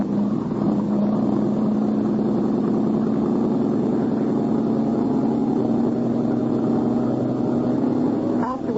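A boat engine revving up in a radio drama scene: a loud, steady low droning motor that holds a constant pitch throughout, with a brief rising swell near the end.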